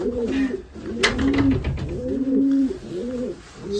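Racing pigeons in a loft cooing in repeated soft, rolling phrases, close by, with a brief clatter partway through and no talking.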